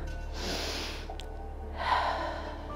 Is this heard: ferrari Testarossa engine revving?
no